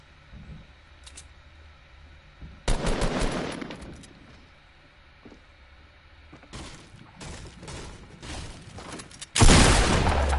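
Video game gunfire in a battle-royale style match crackles in sharp bursts, with rapid automatic volleys and single shots of varying distance, loudest in a close, heavy burst at the end.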